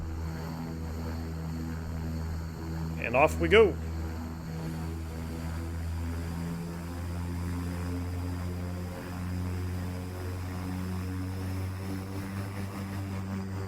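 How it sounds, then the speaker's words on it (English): Airfoil Labs King Air 350 twin turboprop in the X-Plane simulator taxiing with the doors open, a steady low propeller and turbine drone running throughout, with a brief burst of higher whine and a short spoken remark near the start. "So the sounds on this airplane, guys, are phenomenal."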